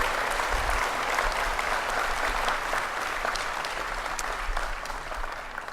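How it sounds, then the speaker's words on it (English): A crowd at an outdoor college commencement gives a steady round of applause for the campus facilities team, a dense, even wash of clapping at moderate distance with no voices over it. "Please join me in a round of applause for our facilities team for making campus so beautiful."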